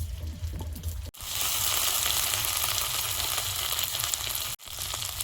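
Ginger-garlic paste hitting hot oil in a pan while a rui fish curry is cooked, a loud continuous sizzle that surges after a brief pause and runs steadily, dipping briefly once near the end.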